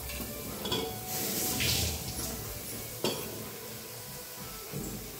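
Ridge gourd pieces and green chillies fry with red lentils in a pan, making a soft continuous sizzle with stirring scrapes and an occasional sharp clink of a spoon against the pan, close by.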